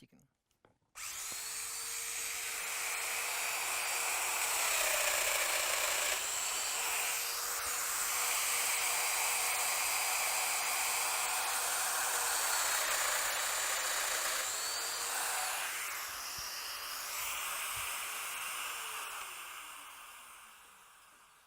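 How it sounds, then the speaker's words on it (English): Festool router cutting dowel holes in wood for a 32mm hole-row system, a loud steady whining motor held for about twenty seconds with small pitch dips as each hole is plunged, close and alone. "The dowel holes have now been routed."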